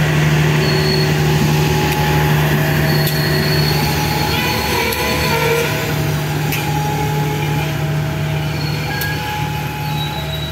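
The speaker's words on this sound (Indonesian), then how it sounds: "Unik nih rangkaian X Sumatera dilansir dengan lokomotif X Sumatera juga." A CC 201 diesel locomotive in RnB livery shunts a passenger train consist at Lempuyangan station. Its loud, sustained engine drone carries a low hum, with faint metallic squeals and clanks over it, close by.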